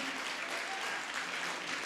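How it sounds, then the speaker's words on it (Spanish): A church congregation applauds steadily, a continuous wash of many hands clapping at moderate, fairly distant level. "Aplaudan al Señor, mis hermanos."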